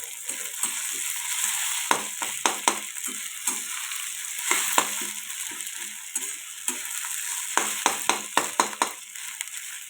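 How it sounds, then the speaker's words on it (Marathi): Sago pearls are roasted in a pan, stirred so that they clatter in rapid bursts of crisp ticks and scrapes over a soft background hiss, with irregular spells of quiet between the bursts. "आपण छान असा साबुदाणा परतून घेणार आहोत."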